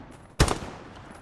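A single sharp rifle shot in Hell Let Loose, loud and close, cracking suddenly and decaying into a brief echoing tail against quiet battlefield ambience.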